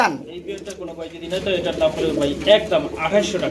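Pigeons at a pigeon sale give repeated soft cooing calls close by, overlapping with people talking throughout.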